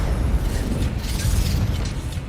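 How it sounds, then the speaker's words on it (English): A loud rumbling explosion in the Hogwarts Legacy video game during a wizard battle, a broad sustained roar with deep low-end boom and crackling debris over about two seconds. "Взорвался"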